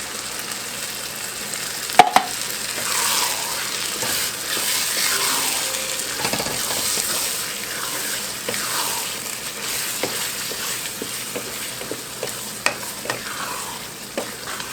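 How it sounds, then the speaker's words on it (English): A spoon stirs canned enchilada sauce into sizzling taco casserole meat in a pan, with steady scraping and frying sizzle running throughout, clear and close with occasional sharper knocks. "Now I'm going to stir in my can of enchilada sauce."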